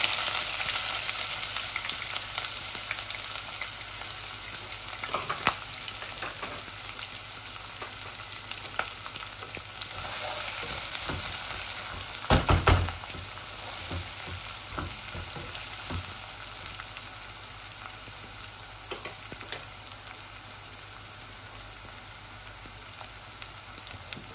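Onion and spices frying in a pan for a Bangladeshi chicken bhuna, with a steady close sizzle that runs throughout and a brief louder burst of crackling midway.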